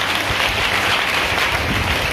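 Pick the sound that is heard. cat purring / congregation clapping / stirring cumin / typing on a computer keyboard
congregation clapping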